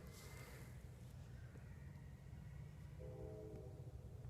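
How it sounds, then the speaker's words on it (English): A faint, distant train rumbles along, with a soft horn note drifting in near the end, all low and steady under quiet outdoor ambience. "I don't usually hear a train out here."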